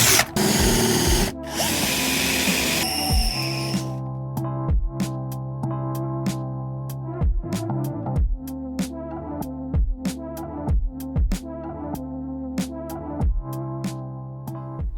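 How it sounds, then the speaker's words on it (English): Power drill boring out spot welds on the rusty body of a cheap Ford Transit camper van, a loud continuous grinding burst at the start, then repeated short sharp bites of the bit against steel at a steady, uneven rhythm, close up. "we can now start drilling out the spot welds"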